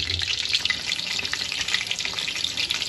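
Egg koftas frying in hot oil in a home kitchen, a steady, close crackling sizzle with bright spattering pops throughout, no talking.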